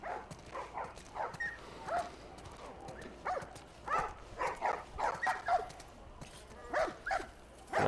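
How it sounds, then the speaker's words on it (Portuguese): A dog barking in The Last of Us video game, a series of sharp barks in irregular bursts, moderately loud over a quiet background. "Cachorro latindo."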